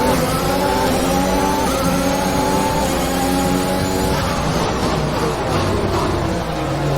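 An F1 2021 race car engine screams as it accelerates at Bahrain's Sakhir Circuit in the racing game, a loud sustained whine rising in pitch through the gears with no talk over it.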